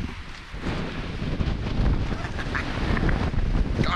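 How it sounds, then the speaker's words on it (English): Strong wind buffets the microphone on the rugged Scottish coast near a lighthouse, a continuous roaring rumble swelling louder toward the end, with no voices. "it's so windy though"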